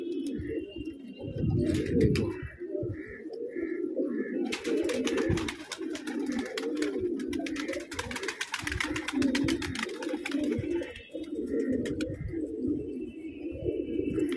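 Homing pigeons returning from a long flight coo in a dense, continuous chorus close at hand, with wing flutters and a brief spoken word over the birds.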